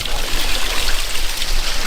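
Water runs continuously through an Indonesian village latrine that has no tap, a steady close rushing trickle with no pauses or voices.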